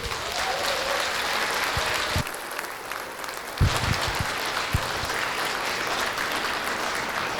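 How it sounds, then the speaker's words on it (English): A crowd claps loudly and steadily at a victory celebration, with a few sharper claps and brief swells standing out in a sustained round of applause. "Big round of applause, everybody."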